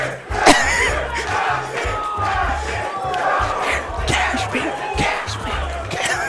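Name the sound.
crowd cheering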